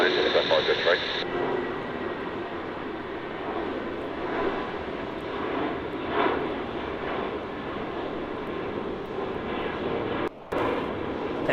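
Airliner engines roaring during takeoff at Melbourne Airport: a steady, moderately distant jet rumble that stays even throughout, with a brief radio-like burst at the start and a short dropout near the end.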